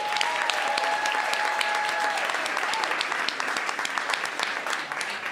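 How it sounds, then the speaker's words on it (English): A crowd applauding writers at a live literary show, continuous even clapping from a full audience, with a brief tonal whistle or ring audible in the first two seconds. "Let's all give them one more round of applause."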